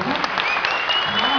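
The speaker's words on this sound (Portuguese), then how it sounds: "Uma salva de palmas mais uma vez, né?" A burst of clapping from an engagement party crowd, steady and fairly loud, with a voice faintly audible over it.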